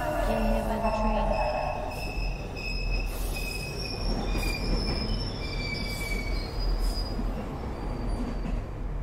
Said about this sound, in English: I think we could definitely get hit by the train